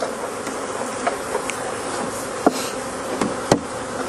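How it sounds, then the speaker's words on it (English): A dense swarm of agitated honey bees buzzes steadily and loudly around an open hive during beekeeping at Mt Si Nursery, with occasional sharp knocks and clicks of hive equipment cutting through the drone. "Those bees were so upset with us."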